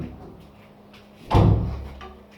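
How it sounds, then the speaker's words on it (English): A door closes with one solid, close thud midway through, which decays briefly after a quiet room tone. "And close this door."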